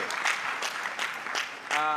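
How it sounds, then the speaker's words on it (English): Audience in a hall at a book launch claps briefly, a few scattered bursts of applause close by and moderately quiet, with a voice speaking over the clapping. "So let's clap for GRA."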